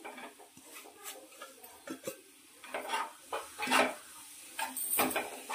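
A jaggery and cardamom mixture is stirred in a pan while the jaggery melts for beri vadi, with scraping and clinking of a utensil against the metal in irregular bursts, close and moderately loud, with no talking.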